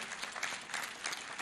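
Graduation audience applauding in a large hall, a dense, steady wash of clapping heard from a distance, fairly soft and continuous throughout.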